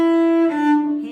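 A cello plays a short run of bowed notes, a sustained low tone shifting pitch once or twice, close and clear with no talking.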